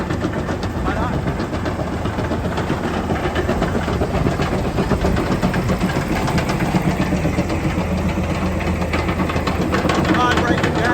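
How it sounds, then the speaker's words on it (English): A concrete crusher runs on a yard with its vibrating deck shaking, a loud continuous rumbling, rattling mechanical drone that persists throughout while someone talks over it. "Vibrating deck."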